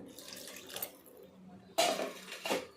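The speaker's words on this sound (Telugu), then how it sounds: "కొద్దిగా వాటర్ పోస్తాం" Water pours into a pot of fish curry in two short bursts, a splashing rush that starts softly, pauses, then returns louder and close by.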